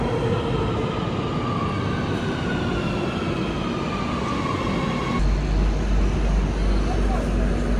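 A Madrid metro train runs underground with a loud, steady roar and rumble, its pitch shifting slightly as it travels, and a deeper thump near the end.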